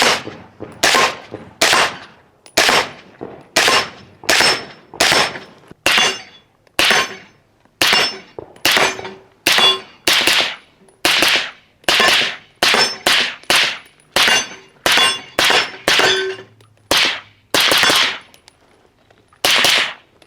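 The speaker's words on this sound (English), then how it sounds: "It's actually a really nice suppressor. I mean, I could hear it shooting. I definitely hear the steel" Suppressed rifle shots through a Dead Air RXD Ti 30 caliber suppressor, each followed by a ringing clang of bullets hitting a steel target downrange, about two dozen in a steady, fairly quick rhythm, loud and close with no talking.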